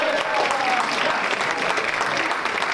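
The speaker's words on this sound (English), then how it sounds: "Give a round of applause for Krishna." Seminar audience applauding for Krishna, a continuous dense wash of clapping from a crowd, fairly loud and sustained throughout.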